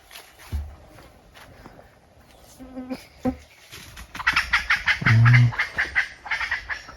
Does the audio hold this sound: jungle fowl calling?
yes